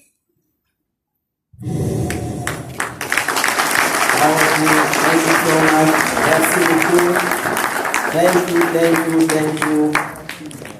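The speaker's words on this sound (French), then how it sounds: "On applaudit encore très très fort." After a moment of silence, a live audience at a performance and talk breaks into loud, sustained applause, a dense wash of clapping that lasts about nine seconds before fading. A voice thanks the crowd in English and French.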